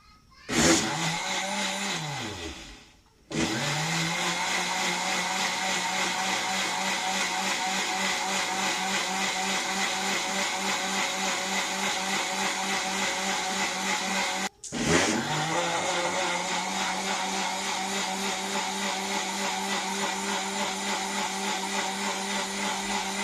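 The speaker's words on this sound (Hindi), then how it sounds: "तब तक हम इसे चावलों को ग्राइंड कर लेते हैं।" Rice grains being ground in an electric blender: a loud, steady motor whine that spins up, runs continuously, stops briefly around the middle and starts again, with no talking.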